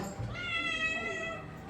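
A house cat gives a drawn-out meow that rises and falls, fairly faint, over a quiet room background.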